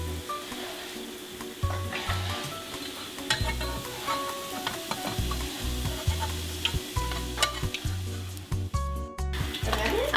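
Meat-filled crepes (blinchiki) sizzle steadily in a frying pan, with frequent light clinks and scrapes of a utensil against the pan throughout.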